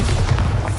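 A Bombarda explosion spell from Hogwarts Legacy on PS5 goes off as a single loud, deep, rumbling blast that lasts under a second.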